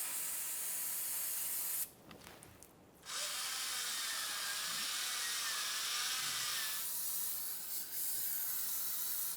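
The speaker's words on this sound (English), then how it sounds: "To clean this, I'm going to be using some parts cleaner and a bore brush." Parts cleaner sprays in long, steady hissing bursts from close by while a ball joint stud bore in a 2014-2018 Mazda 3 front lower control arm gets cleaned, with a short break partway through and scrubbing under the spray.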